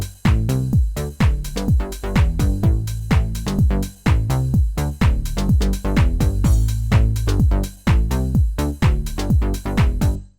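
A Korg Poly 6 style preset on the u-he Diva software synth, playing a loud, busy run of rapid, plucky bass-heavy synth notes in a steady driving rhythm with brief pauses, no voices.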